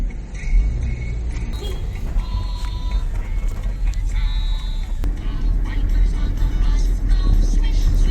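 Road traffic on the East Bank, a continuous low rumble of passing vehicles with engine drone and occasional higher tones, people chatting over it throughout.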